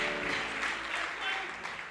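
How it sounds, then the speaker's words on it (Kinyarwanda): A church congregation applauds together in a sustained, dense round of clapping that holds steady for the whole stretch, loud and close with no break. "Mwongere munyemerere mukomere Imana amashyi menshi cyane."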